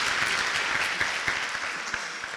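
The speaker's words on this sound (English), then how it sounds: "Give her another round of applause." A crowd at a charity celebration applauds steadily, dense clapping close and fairly loud, with no talking over it.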